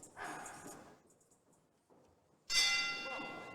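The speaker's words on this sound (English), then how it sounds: "And there's the bell" A boxing ring bell starts the round at an amateur fight, one bright ringing clang standing alone after a quiet gap, with crowd noise fading in beneath it.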